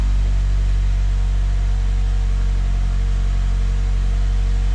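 2017 Mazda CX-5 engine running at a steady idle, a loud, even low hum with faint mechanical whir that holds without change from start to finish.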